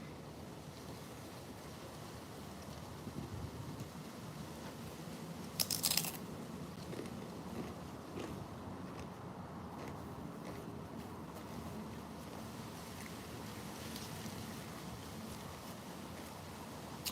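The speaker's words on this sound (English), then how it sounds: "You hear the wind?" Steady low rumbling wind buffets the microphone for a long stretch, with a brief crackle of handling noise partway through.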